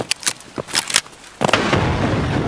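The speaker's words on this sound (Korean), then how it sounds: "수류탄 계속 날라온다." Grenade blasts in the shooter game Escape From Tarkov: several sharp cracks in quick succession, then a heavy booming explosion that rumbles and decays, loud and close.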